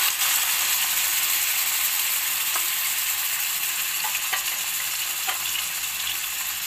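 Chicken pieces fry in hot cooking oil on a stove, giving a steady, dense sizzle with a few faint utensil clicks, close and alone.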